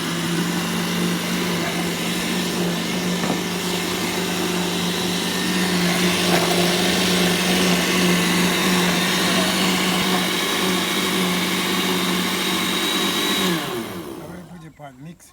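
A blender whirs loudly and steadily while blending oats for a palm tree seed punch, with a constant droning hum, then winds down and stops near the end.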